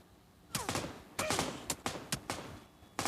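Gunfire in PUBG on the Erangel map: several sharp shots in uneven bursts, a couple spaced apart and then quick pairs, loud and close, with no voices.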